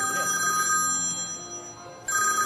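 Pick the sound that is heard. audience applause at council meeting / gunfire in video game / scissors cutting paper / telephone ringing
telephone ringing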